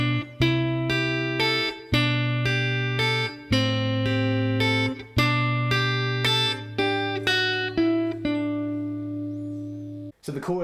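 Guitar chords from a song played slowly, a steady sequence of close, bright strums and plucked notes at an even pace, letting the final chord ring before a short muted strum.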